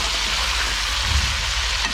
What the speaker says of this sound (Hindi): इसे अच्छी तरह फ्राई करना है, क्योंकि ये पानी छोड़ेगा, ऑयल में पानी होगा।